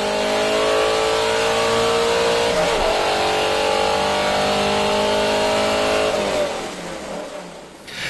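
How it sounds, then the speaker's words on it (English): A drag car on DOT drag radial tires launches at 2500 RPM and pulls hard toward a 6500 RPM shift, a loud, close engine roar rising in pitch for several seconds before fading away. "I launched the car at 2500 RPM and shifted the car at 6500 RPM."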